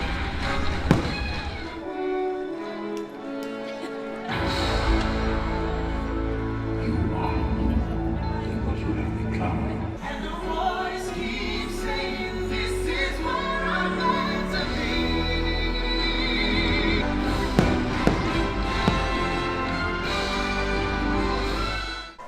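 Epcot nighttime firework show heard under a loud, continuous orchestral soundtrack, with deep booms and crackling bursts scattered throughout; the music stays dominant and the individual explosions are hard to pick out.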